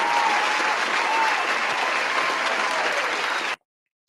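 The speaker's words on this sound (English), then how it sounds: "can we get a hand clap for that?" A thick, even wash of crowd applause played under a crypto trading discussion, holding at full level for about three and a half seconds before cutting off abruptly into silence.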